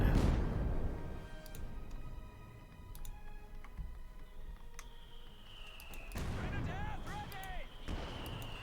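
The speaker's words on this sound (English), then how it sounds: "another Calliope barrage, singing a dirge of death and destruction, a serenade of high explosives" Calliope rocket artillery barrage in Company of Heroes 2 thunders as a steady wash of distant explosions, with rising whistles of rockets streaking overhead near the end and someone talking throughout.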